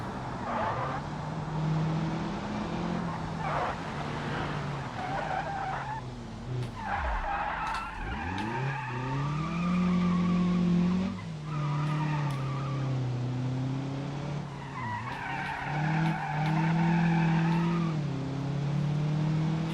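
Car tires squealing and skidding through drifts in the BeamNG driving game, long wavering screeches over a revving engine, rising and falling in several loud bursts.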